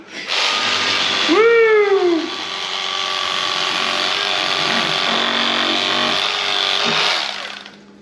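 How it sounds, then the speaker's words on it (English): A Rapala cordless electric fillet knife slices through walleye, a steady high motor whine with a brief pitch-swooping strain as the blade catches, running close and loud for several seconds before stopping. "We did two walleyes with each knife, the Bubba and the Rapala cordless."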